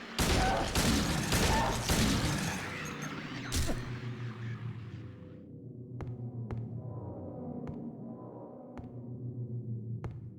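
Rapid bursts of gunfire in the video game Silent Hill 2 crack out over a low droning hum, then thin to a few isolated sharp shots spaced apart as the drone continues.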